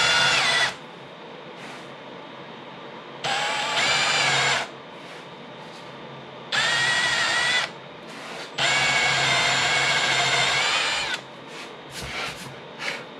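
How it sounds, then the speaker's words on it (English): Power drill fitted with a long bit boring ferrule holes through a guitar body, running in several loud bursts of whirring and grinding separated by short pauses, close up. "I am going backwards to center the drill and then start drilling again"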